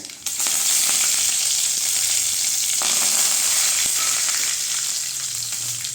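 Dried red chillies, cumin seeds and curry leaves fry in hot oil for a cabbage and moong dal kootu, giving a loud, steady, continuous sizzle with no talking.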